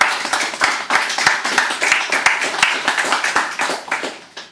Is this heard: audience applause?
yes